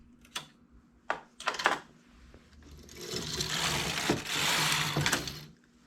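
Knitting machine carriage sliding across a row of needles, a few sharp clacks and rattles first, then a sustained mechanical whirring swish of the carriage pass, fairly close.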